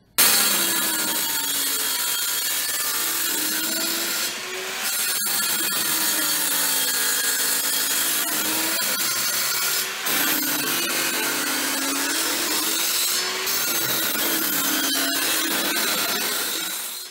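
Wood spins and is cut on a homemade lathe while turning screwdriver handles, a steady loud grinding and scraping with a motor whine that rises and falls over several passes.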